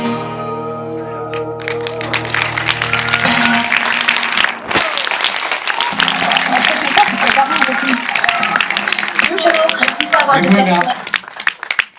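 An audience applauds performers at a Happy performance event in Montluçon, with sustained, dense clapping from a crowd that carries on for many seconds, as music fades out at the start and someone speaks briefly over it.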